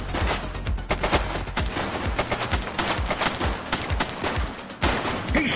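Rapid bursts of gunfire in the police game The Precinct, sharp repeated shots clustered into loud fusillades that fire continuously and nearby across the whole stretch, with no voices.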